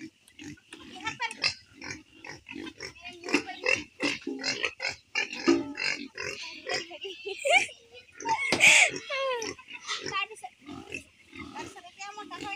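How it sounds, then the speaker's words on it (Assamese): Pigs on a farm grunt and squeal at feeding time, with rapid irregular grunts and a few sharp squeals close by, mixed with a person talking. "তাৰপিছত এতিয়া মই গাহৰিক দানা দিম"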